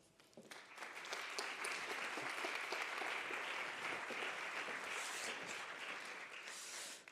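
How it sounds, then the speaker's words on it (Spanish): Steady, full audience applause for a presenter at a formal report launch, rising quickly and holding evenly for several seconds before tapering off, with no talk over it. "Ismael, un aplauso para él."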